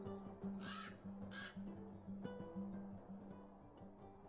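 A bird in the Lord of the Rings Online game gives two short cawing calls over a steady, looping ambient game soundscape, with no talking.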